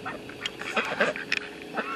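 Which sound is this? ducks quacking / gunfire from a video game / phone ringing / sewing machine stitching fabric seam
ducks quacking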